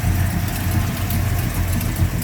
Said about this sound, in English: Nice running, nice sounding engine.